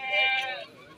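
A single Beetal goat bleats at a goat market in Jhelum, one wavering, fairly loud cry lasting about half a second.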